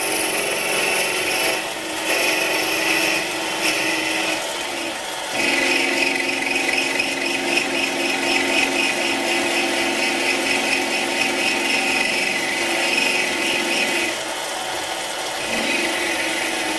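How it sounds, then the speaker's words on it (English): Sanding a hand-roughed tapered metal shank smooth, a steady continuous abrasive rubbing that runs loud and close throughout with brief dips in pitch, no voices. "I roughed the tapering by hand at first and then sanded it smooth."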